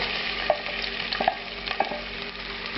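Onions with bay leaf and mustard seeds sizzle steadily in hot oil in a pan, a continuous mid-level crackle broken by a few soft stirring knocks, no voices.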